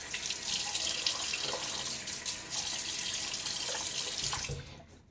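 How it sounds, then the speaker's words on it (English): Water runs steadily from a bathroom tap into a sink for a face splash before a shave, a close, even rushing hiss that cuts off at the end. "Let me go ahead and throw some water on my face."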